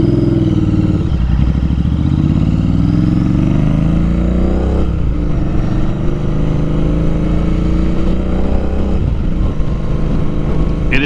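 A Royal Enfield Interceptor 650 motorcycle engine on the move sounds loud and close. Its droning exhaust note climbs steadily in pitch, drops and climbs again as the rider shifts gears, with no voices.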